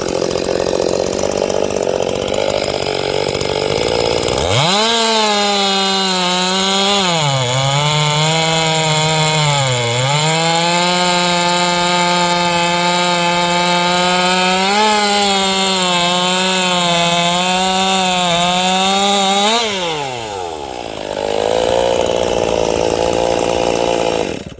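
Ported Stihl MS261 chainsaw fitted with a new carburetor and muffler mod, idling then revving to a loud, high wailing whine that dips and recovers a few times before dropping back to a rough idle, close up.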